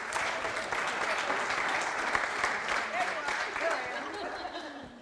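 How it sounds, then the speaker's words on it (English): A round of applause at a Fresno city council meeting, steady sustained clapping from a room of people with a few chuckles mixed in throughout. "Let's give them a round of applause."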